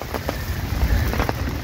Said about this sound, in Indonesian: Ini gerimis.